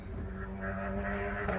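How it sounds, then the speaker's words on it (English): Motorcycle passing in the background with a steady engine drone and faint crackles and pops, heard at a distance and fairly quiet throughout. "crackles and pops in the background of the motorcycle going by"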